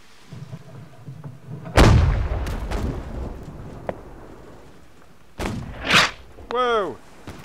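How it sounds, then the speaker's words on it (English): A ship's cannon firing chain shot in the naval battle game Holdfast: Nations At War: one loud, booming blast with a long rumbling tail, followed by further heavy bursts and a short voiced exclamation near the end. "I'm gonna chain shot it."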